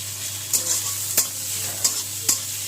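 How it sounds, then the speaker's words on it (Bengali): Sliced onion frying lightly in hot oil, a steady close sizzle broken by several spoon scrapes and taps against the pan. "দেখো পেঁয়াজটা একটু ফ্রাই করে নেবো হালকা"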